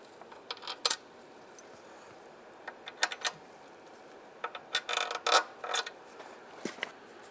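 Small metal bolts drop into place on the intake of a 2007-2015 Mazda CX-9 during an ignition coil boot job, giving scattered sharp clinks and taps, several in quick clusters, close and fairly quiet with no talk.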